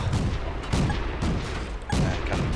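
Tank guns firing in the game World of Tanks: several heavy booming shots spaced about half a second apart, each one punchy and loud, with rumbling battle noise between them and no talk.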